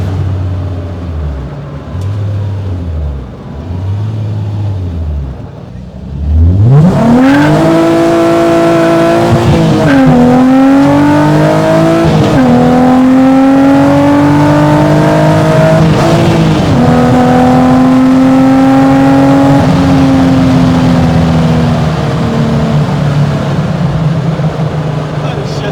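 A Volkswagen Golf R32 Mk1 with a 3.2 engine pulls hard through first and second, its rising engine note climbing loudly with brief dips at each gear change, after a low rhythmic idle-like pulsing at the start, with voices nearby.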